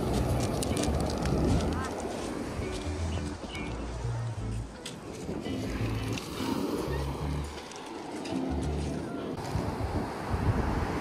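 Loud sea waves wash over a pebble beach, a continuous rushing surf mixed with heavy wind buffeting on the microphone, with people talking over it.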